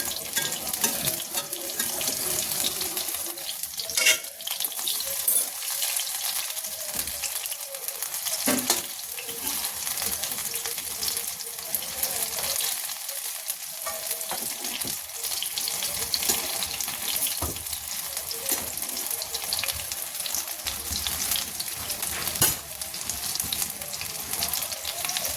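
Puffed rice and paneer pakoras with a besan coating fry in hot oil in a kadai, a continuous crackling sizzle with hissy, bubbling texture, steady and close throughout, fairly quiet with no talking.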